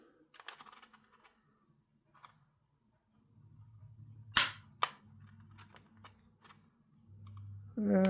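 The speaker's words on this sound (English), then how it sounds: "Let's try the flush cuts." Flush cutters snip plastic parts during a small-scale RC crawler build, giving a couple of sharp, close clicks with faint handling noise between them and quiet room tone.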